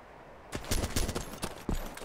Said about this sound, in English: He's shooting zombies.